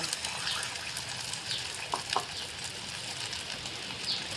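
Pieces of egg omelette frying with a soft, steady sizzle, fairly faint, with a couple of brief spatula taps near the middle.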